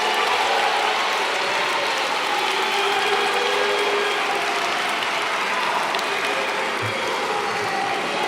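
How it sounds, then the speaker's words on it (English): A parliamentary audience applauds steadily at South Africa's State of the Nation Address, a dense, even wash of clapping that holds for the whole stretch with no voices over it. "And let us give them a big round of applause."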